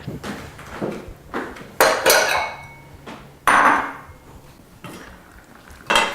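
A baking pan of butternut squash slides into a home oven beside baked potatoes, with several close metallic scrapes and clanks of pan on rack and a bang of the oven door.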